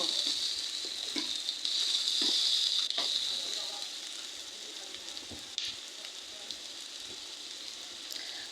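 Egg dish frying in a pan as red chili powder and turmeric are stirred in, a steady close hiss of sizzling with soft scraping stir strokes throughout, loudest in the first few seconds.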